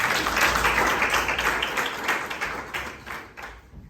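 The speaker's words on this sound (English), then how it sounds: "Give them a round of applause, everybody." Applause from an audience at a business masterclass for volunteers, a dense wash of many clapping hands that runs steadily for several seconds before tapering off near the end.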